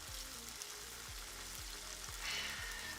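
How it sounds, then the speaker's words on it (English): Goya champuru frying in a pan, a steady broadband sizzle with a few soft low clunks of stirring at regular intervals, fairly loud and continuous with no talk. "I couldn't hear because the frying was too loud"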